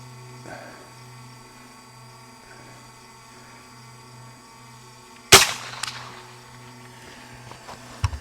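A Henry Homesteader 9mm pistol-caliber carbine fires outdoors: one sharp, loud shot stands out against a steady low hum, followed by a fainter second report and a light click near the end.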